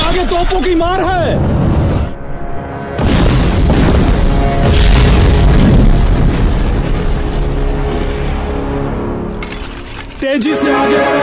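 Cannon fire in a Punjabi historical battle film sounds as heavy booming explosions that merge into a loud, sustained roar of battle noise, broken by brief drops, with shouted voices mixed in.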